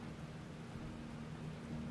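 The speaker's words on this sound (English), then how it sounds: "Soothing sounds of rain." Steady heavy rainfall in the Derail Valley train simulator, a continuous broadband wash of drops over a faint low rumble, even in loudness throughout with nobody talking.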